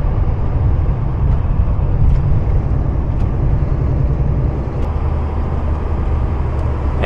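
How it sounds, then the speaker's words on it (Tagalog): Heavy rush-hour road traffic on EDSA rumbles continuously from inside a vehicle, a dense low engine and road drone with faint ticking, no voices. "Eto na, traffic na sa EDSA."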